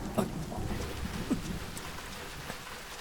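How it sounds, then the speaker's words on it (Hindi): Rain falling steadily outdoors, a soft continuous hiss with a few louder drops and splashes standing out briefly. "जब मैं गाना गाता हूँ तभी बारिश होती है।"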